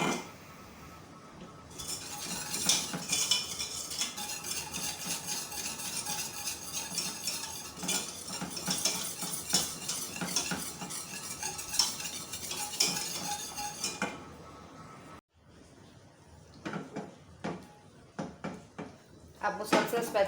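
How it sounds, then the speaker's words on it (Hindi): A spatula scrapes and stirs chocolate syrup made with cocoa powder in a pan, with repeated clinks and scraping strokes, a brief pause, then a few sharper knocks; close and moderately loud. "अब मुसलसल स्पैचुला की मदद से हिलाते जाएं, इसको बॉयल होने दें।"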